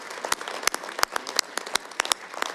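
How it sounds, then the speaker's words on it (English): Scattered applause from delegates at an international ski congress in Reykjavik, honoring Andorra: sparse, distinct claps heard fairly quietly in a reverberant hall, irregular and thin rather than a full roar. "I'd also like to suggest that we give a big round of applause for Andorra"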